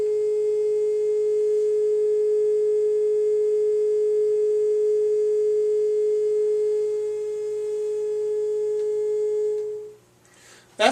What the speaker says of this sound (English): That's a very simple sine wave.